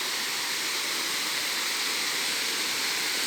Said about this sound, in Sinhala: එතනොත් වතුර යනවා.